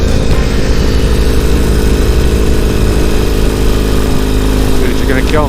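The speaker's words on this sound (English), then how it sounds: "Bike is climbing." A Ural motorcycle engine labouring uphill near 10,000 feet: a loud, steady, rough engine drone fills the whole clip, heard up close from the rider's position, with a faint brief tone near the end.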